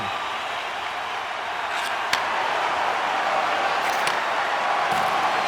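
Arena crowd noise in the NHL 26 hockey video game on PS5, a steady loud roar of cheering fans filling the whole stretch with a brief sharp knock partway through.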